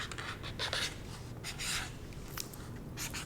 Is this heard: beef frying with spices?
no